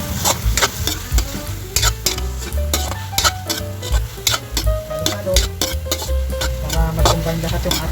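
Boiled chicken flakes sautéed in a pan with seasoning for ampalaya: loud, rhythmic scraping and clacking of a utensil against the pan over a continuous sizzle, repeated quick strokes throughout.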